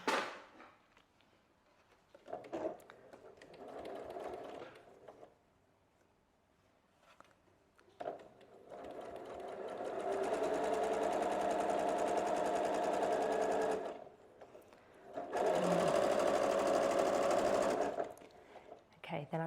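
A sewing machine chain pieces fabric in several runs, whirring steadily at close range with short pauses between seams, while a person talks softly in the gaps.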